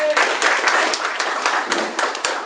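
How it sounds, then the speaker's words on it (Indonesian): Audience clapping at an Indonesian vision-and-mission presentation, a dense steady patter of many hands lasting the whole moment, fairly loud and close with no talk over it. "Kita tepuk tangan buat Valian."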